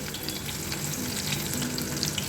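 Stuffed brinjals fry in oil over a low flame, giving a continuous soft sizzle with faint crackles, steady and close throughout.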